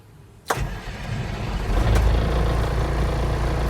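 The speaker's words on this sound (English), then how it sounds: "I need to start my vehicle" A truck engine is started with the key during an in-cab inspection: a sharp crank catches at once, then settles into a steady, rumbling idle close by, with a second surge about a second later.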